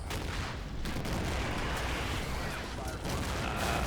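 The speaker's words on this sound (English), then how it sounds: "that's the German artillery hitting this objective, to the surprise of nobody" German artillery shells pounding an objective in the war game Combat Mission Shock Force 2, a dense, continuous roar of blasts and rumbling impacts that stays loud throughout with no clear gaps.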